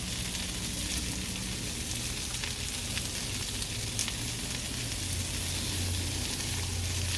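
Chicken wings fry on a hot Blackstone griddle, making a loud, dense, unbroken sizzle that stays steady throughout, with an occasional faint scrape. No one speaks.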